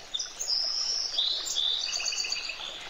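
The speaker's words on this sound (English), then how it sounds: "Birds! Why are they so loud?" Loud birds in the tank-repair game Tank Mechanic Simulator chirp and whistle in quick overlapping high calls across about three seconds, with a soft ambient bed beneath and no talk.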